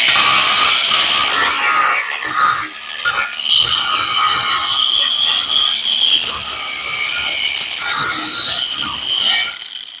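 A power tool cuts off the exhaust collector flanges on a big-block 1983 Foxbody Mustang GT, making loud, harsh grinding and rasping bursts. The noise drops out briefly a few times.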